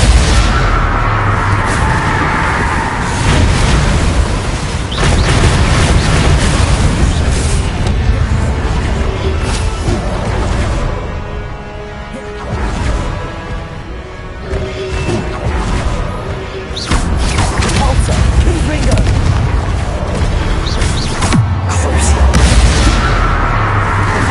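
Spell blasts cast in the Hogwarts Legacy game, a dense run of loud booming impacts, crashes and magical bursts in rapid succession with no pause between them.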